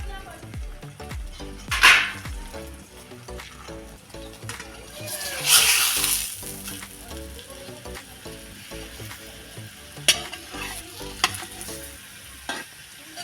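Aloo paratha fries in oil with a close, steady sizzle, broken by louder bursts of spattering and the scrape of a utensil, while a dog barks now and then.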